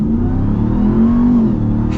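A supercharged 2023 Ram TRX pickup truck engine revs up and accelerates with a deep, steady roar and rising pitch, loud and close, no voices.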